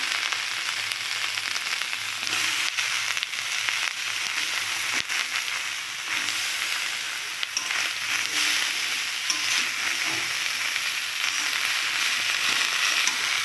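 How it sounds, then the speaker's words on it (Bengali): Cut water lily stems frying in a pan with fish roe over gas, a steady loud sizzle with occasional stirring scrapes, continuous throughout and no talking. "এবার আমি দিয়ে দেবো শাপলাগুলো, জানো, এই যে কেটে রাখা শাপলাগুলো এবারে আমি দিয়ে দেবো"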